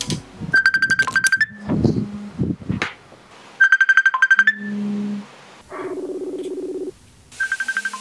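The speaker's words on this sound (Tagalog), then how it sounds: "May tumatawag po sa akin." A phone ringtone for an incoming call plays in repeated bursts of bright electronic melody, with short pauses and a few lower buzzing tones between the phrases, loud and close with no talk over it.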